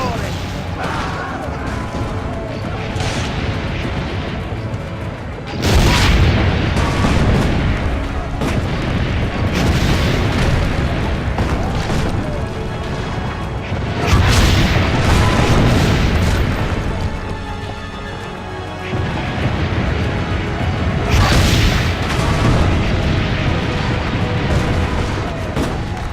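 Cannon fire and explosions from the Assassin's Creed Brotherhood video game: repeated heavy booms burst out at intervals over a dense rumbling battle din, with voices talking through it.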